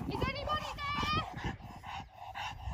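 A dog barks and yips several times in a home, medium loud, with a person's voice shouting over the barks.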